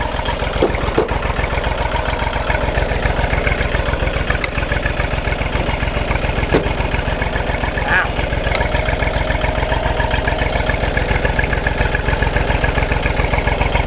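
A used walking tractor engine idles steadily at close range with a loud, regular low chugging beat that lasts the whole time.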